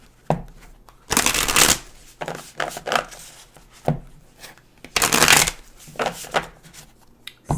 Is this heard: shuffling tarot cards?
yes